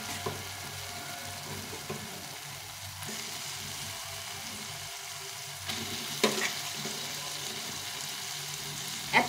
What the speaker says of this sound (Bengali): এই লাউটা এখন দিয়ে দেব